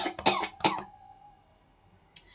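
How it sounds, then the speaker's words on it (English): A person with a dry cough gives two sharp, close coughs in quick succession, followed by quiet and a faint short sound at the end. "Because I have cough."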